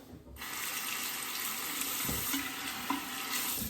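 Running tap water splashes steadily as a safety razor is rinsed under it, a continuous close hiss with a few brief clinks and knocks against the sink.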